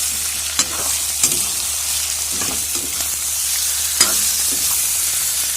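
Marinated meat is stirred into browned onions frying in a pan, giving a steady close sizzle with a few sharp scraping clicks from the spoon against the pan. No voices.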